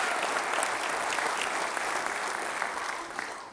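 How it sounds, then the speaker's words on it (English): An audience at a city development forum claps together, a steady, fairly distant wash of applause that keeps going without a break and eases slightly toward the end. "let's give them a big round of applause and thank them"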